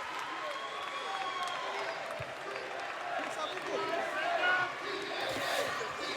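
A wrestling arena crowd in Montreal roars and cheers loudly and continuously after a wrestler crashes to the floor outside the ring, with commentators' voices mixed into the din.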